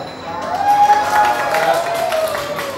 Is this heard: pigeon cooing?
no